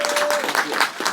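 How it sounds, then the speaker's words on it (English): An audience at a community town hall meeting breaks into applause, a dense continuous clatter of clapping hands that holds steady and fairly loud throughout, with a brief tonal hum near the start. "he deserves a round of applause"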